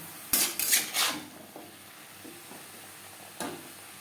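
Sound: mixing vegetables with salt and turmeric in a pan

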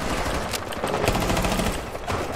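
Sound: gunfire in Rainbow Six Siege video game

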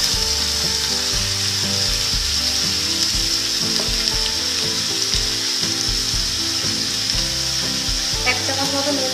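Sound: raw jackfruit frying in a pan

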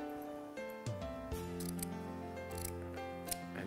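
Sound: scissors cutting ribbon

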